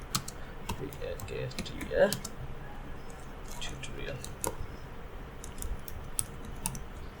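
Quick, light clicks of a computer keyboard typing text, irregular bursts of keystrokes, faint and close, with a soft voice murmuring in the background.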